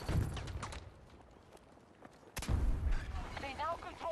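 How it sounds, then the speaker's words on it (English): Battlefield 2042 combat with a grenade blast and gunfire: two heavy broadband booms, one at the start and a louder one midway, surrounded by crackling shots and rumbling battlefield noise, with game voices talking over the action. "Throwing grenade!"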